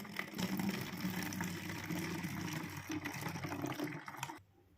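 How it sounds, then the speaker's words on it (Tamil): Fermented buttermilk pours into a water can, a continuous close splashing gurgle of liquid that runs for about four seconds before cutting off. "இப்போ இதை வந்து ஒரு வாட்டர் கேனில் ஊற்றியாச்சு."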